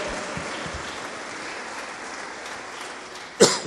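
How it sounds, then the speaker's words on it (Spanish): Church congregation clapping hands, a steady dense wash of applause throughout that swells briefly louder near the end, with no speech. "Dele fuerte las palmas al Señor"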